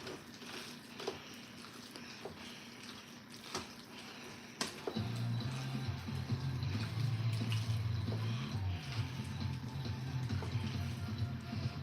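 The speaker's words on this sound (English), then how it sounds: "Let's really add some more liquid to this." Liquid poured into a pot of mac and cheese while cooking, a faint background that gives way to a steady splashing pour lasting several seconds before tapering off.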